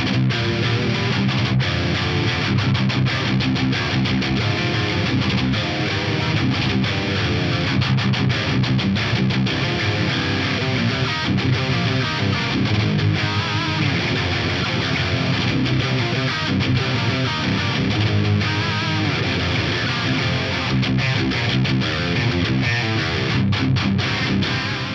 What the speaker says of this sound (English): the good old USA Mark IV lead mid